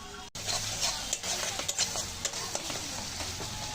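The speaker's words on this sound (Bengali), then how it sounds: "তারপরে এই যে আমি মাংসগুলো দেবো।" Meat pieces go into a pan of spices frying with onion, ginger, garlic, tomato, chili powder, turmeric and cumin, giving a steady loud sizzle broken by scraping stirs and a few sharp clinks of the utensil.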